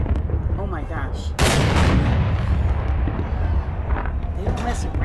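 Cannons fired for a national day celebration in Italy, sounding as a loud booming blast followed by sustained rumbling, with crowd noise and voices underneath throughout.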